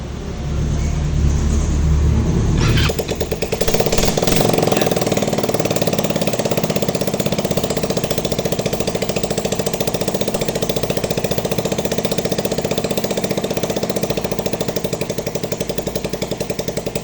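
A Rusi Passion 125 motorcycle with a hard-starting fault, its fuel cock bypassed to feed fuel directly, cranks and catches after a few seconds, then settles into a steady, close, rattling idle that runs on evenly.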